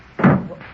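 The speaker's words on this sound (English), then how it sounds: "Pardon me while I answer the door." Door opened on a 1930s radio drama set in a prison warden's office, a single short thunk-like creak of moderate loudness, heard alone.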